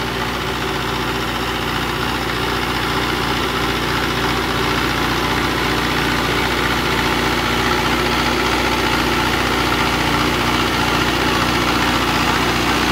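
A Mahindra tractor engine idles at lowered RPM, a loud, steady, even drone with constant low rumble and vibration throughout, close by and with no talk.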